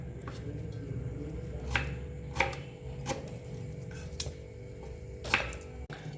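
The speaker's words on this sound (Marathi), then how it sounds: "तर हे आपलं आलं आणि लसूण कट केलं आहे" A knife chops ginger and garlic on a board for paste, several sharp knocks at irregular intervals over a low background hum, fairly quiet and close.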